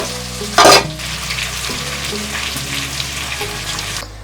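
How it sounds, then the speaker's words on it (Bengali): Chicken pieces fry in a pan for a chicken biryani with a continuous close sizzle, a brief sharp burst of spitting oil early on and occasional stirring scrapes underneath. "এভাবেই সব চিকেন পিসগুলোকেই ভেজে নেব"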